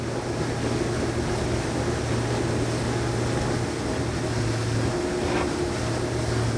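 A Saxdor 270 GTO motorboat cruising at about 25 knots and 4,000 RPM, with a loud steady engine drone under constant rushing water and wind noise, no talking.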